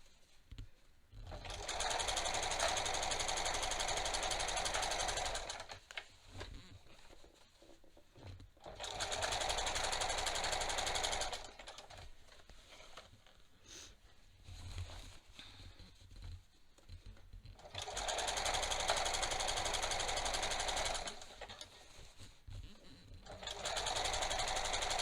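Sewing machine stitching elastic onto a waistband facing, in three long loud runs of rapid even needle chatter separated by quiet pauses with faint handling noises.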